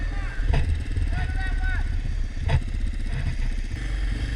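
A motorcycle engine drones steadily while riding, with wind buffeting and rhythmic pulsing, as someone talks loudly over it.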